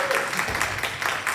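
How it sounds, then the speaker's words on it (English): Brief burst of audience applause closing a Book Club of California talk, a dense even patter of many hands clapping at once. "how about a big round of applause for our speakers?"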